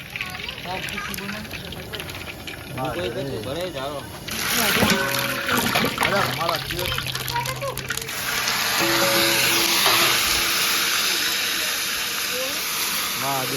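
Tempering (vaghar) sizzling in hot oil in a home kitchen, a loud steady hiss that swells midway and keeps crackling while people talk over it.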